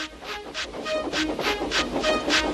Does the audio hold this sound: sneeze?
no